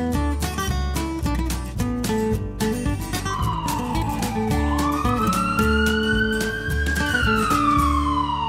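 An electronic toy ambulance siren wails in rising and falling tones over a busy, beeping musical jingle, loud and close.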